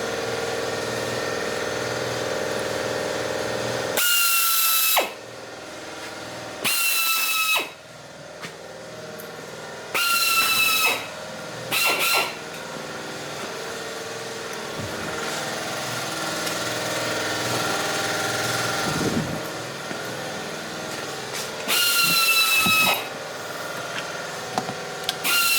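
A power tool cuts knife steel down to length in several loud, harsh bursts of a few seconds each, separated by quieter spells of a lower running engine-like hum.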